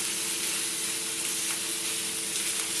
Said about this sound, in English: I'm just going to move these veggies out nice and evenly around the pan